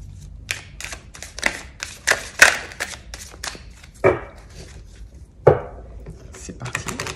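Persian tarot cards being shuffled by hand, a run of crisp irregular riffling snaps and slaps, close and fairly loud, with a couple of sharper flicks and no talking.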